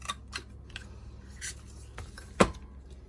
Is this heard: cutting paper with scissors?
yes